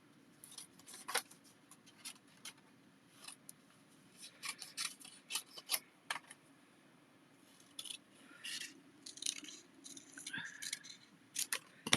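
Scissors snip around a printed paper sentiment reading "be patient" in a papercrafting session, fussy cutting with quiet irregular clusters of close blade snips and brief paper rustles, with no talking.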